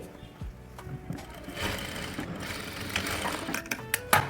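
A sewing machine runs a double line of stitching on a katori blouse, a steady close whir in bursts with a few clicks and brief stops.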